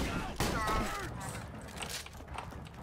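Video game gunfire in Borderlands 2, a burst of sharp shots and impacts with mechanical clatter, dense and close over a short span.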